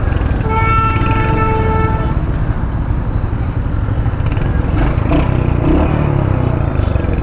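Loud, dense road traffic surrounds a rider on a Royal Enfield Hunter 350 on a hot day. A horn toots early on, and further faint horn blips and engine rumble continue throughout, with no clear talk.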